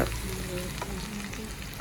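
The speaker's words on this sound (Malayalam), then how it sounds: "അതിലേക്ക് വെളിച്ചെണ്ണ ഒഴിച്ച് വെളിച്ചെണ്ണയായിട്ട് വറുത്തെടുക്കണത് അതിൽ ഉള്ളി ഇടുക" Onions fry in coconut oil in a pan on the stove for a home-style chicken varattiyathu, a soft, steady sizzle with faint bubbling and occasional spits heard up close.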